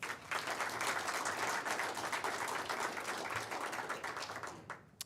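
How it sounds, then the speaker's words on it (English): Sustained audience applause fills a gathering for a Westheimer SONEC building announcement at Murray State College, dense and steady clapping from a crowd that tapers off near the end. "How about a round of applause for that?"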